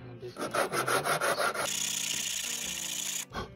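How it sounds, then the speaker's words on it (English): An engine part for a 318 Mopar build rubs back and forth on 80 grit sandpaper stuck to a table, giving about eight rhythmic rasping strokes followed by one long continuous scrape and a final short rub. "Let's see if we can fix that with some 80 grit sandpaper."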